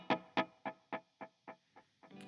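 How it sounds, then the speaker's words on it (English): An electric guitar plays a run of evenly spaced plucked notes through a wide ping-pong eighth-note delay, each repeat fading a little as it bounces, loud and close with no talking. "you got a very wide ping-ponging effect on that 8th note delay"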